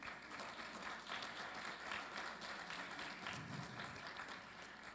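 Warm applause from an audience at an aviation labor union forum as panelists are welcomed, a steady, fairly faint crowd clapping that holds evenly throughout.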